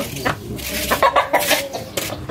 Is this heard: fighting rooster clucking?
yes